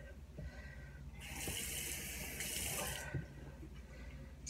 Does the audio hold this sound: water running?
yes